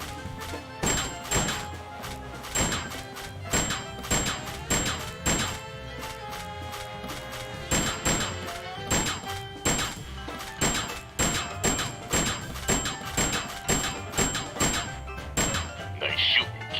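Rats being whacked in the Whack the Rats arcade minigame in Sam & Max Save the World, a rapid series of sharp thwacking hits with chiming tones over a bouncy game tune.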